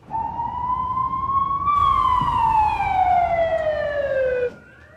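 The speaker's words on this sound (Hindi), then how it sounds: "तुम्हारे पीछे एम्बुलेंस की आवाजें कैसी?" An ambulance siren wails loudly and close by, a single long rising tone that jumps higher and then slowly glides down before cutting off, with traffic rumble beneath.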